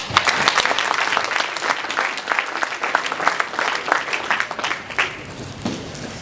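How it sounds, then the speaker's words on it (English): An audience at a girls' swim team banquet gives a round of applause, lively, sustained clapping from many hands with scattered individual claps standing out, lasting about six seconds. "just everyone give a round of applause for that"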